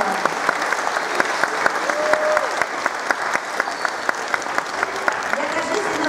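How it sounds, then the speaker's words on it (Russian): Theatre audience applauding at the opening ceremony of an international theatre festival in Vyazma, a steady hall-wide clapping with distinct rhythmic sharp claps standing out, while a faint voice hums beneath. "И сейчас я хочу, чтобы эти аплодисменты прозвучали для нашего земляка Анатолия Дмитриевича Папанова."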